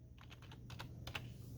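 Soft keystrokes on a computer keyboard tap out a short burst of typing, a quick, uneven run of about eight faint clicks over a low steady hum.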